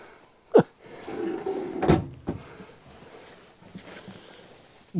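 Cupboard doors in a new family motorhome open and close nearby: a sharp knock, a second louder bang, then a lighter click, with faint handling noise in between and another knock at the end.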